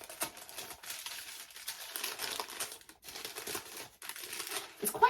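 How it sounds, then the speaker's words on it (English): Gift wrapping paper crinkling and tearing as a present is unwrapped, continuous close rustling with brief pauses, fairly quiet. "shall I unwrap it? All right, sorry for the rustling."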